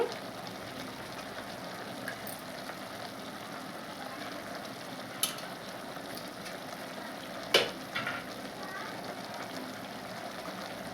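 Fenugreek leaves fry in a pan with a quiet, steady, rain-like sizzle as they are stirred, broken by a few sharp clinks of the utensil against the pan.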